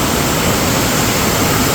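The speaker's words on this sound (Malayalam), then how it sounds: "കനത്ത മഴയത്ത് നിറഞ്ഞൊഴുകുന്ന ഈ വെള്ളച്ചാട്ടവും" Iruppu waterfall in Karnataka, swollen by heavy monsoon rain and fed from the Brahmagiri hills, gives a loud, steady, close roar of rushing water with no voices.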